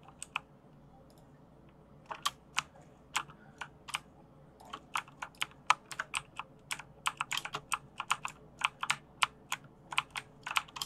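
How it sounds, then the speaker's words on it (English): Computer keyboard keys clicking while gaming, a quick irregular run of sharp taps and clacks that starts sparse and grows denser, close up with no talking. "probably all you can hear is click, click, click from my keyboards"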